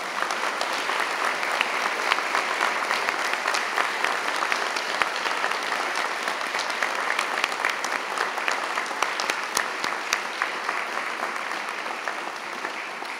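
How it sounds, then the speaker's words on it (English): Sustained applause from a university convocation audience, a dense, even roar of many hands clapping with a few sharper claps popping out, steady and unbroken for the whole stretch. "I would like to ask you to join me in congratulating and applauding these folks all together one last time."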